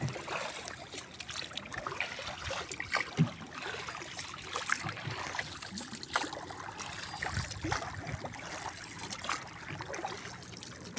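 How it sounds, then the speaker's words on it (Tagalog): Small outrigger boat moving across open water in fine weather near a white-sand shore, with steady splashing and trickling water along the hull, fairly close and continuous with no talk. "Bangka lang kami guys, oh, bangka lang."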